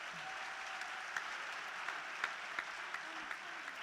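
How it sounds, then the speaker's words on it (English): Audience applause at an October 2018 presentation event, steady clapping from a crowd with a few sharper individual claps standing out, moderately loud and continuous, with no talking. "Please, let's give them a round of applause."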